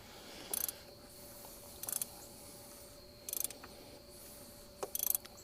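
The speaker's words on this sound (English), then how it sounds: "let's go ahead and get our 36 millimeter socket and snug it up" A 36 mm socket on a ratchet snugs up the oil filter housing on a BMW E53/E46/E39, heard as four short, close bursts of clicking ratchet pawl spaced about a second and a half apart over a quiet background.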